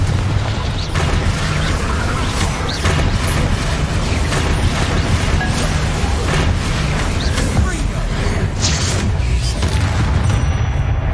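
Spell blasts from Confringo and Bombarda erupting in Hogwarts Legacy, a dense, continuous rumble of booming explosions and mechanical crackling that stays loud throughout, with no clear gaps between hits.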